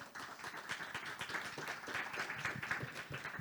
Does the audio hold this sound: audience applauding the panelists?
yes